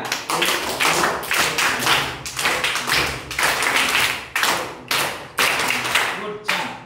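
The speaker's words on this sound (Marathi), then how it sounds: "आपण त्यासाठी जोरदार टाळ्या वाजवूया" Schoolchildren in a classroom clapping loudly in unison, a dense run of sharp rhythmic claps in repeated bursts with brief pauses between, close and energetic.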